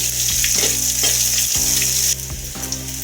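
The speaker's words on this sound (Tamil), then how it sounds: "வெங்காயத்தை கொஞ்சம் பொன்னிறமாக வேகும்படியாக கலக்கி விடுங்க." Onions frying in a pan for a Tamil chickpea masala, a loud, steady close sizzle broken by rhythmic scraping as they are stirred every half second or so.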